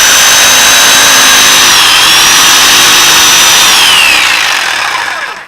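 An electric hand planer runs at full speed with a loud, steady high-pitched whine as it shaves timber, its pitch shifting under load before it winds down at the end.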